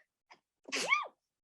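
A single close, sharp sneeze, preceded by a faint intake of breath, in an otherwise quiet setting.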